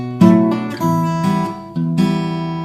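Fingerstyle acoustic guitar pattern with melody and bass played together, a few plucked notes ringing out clearly in a short, close, solo phrase.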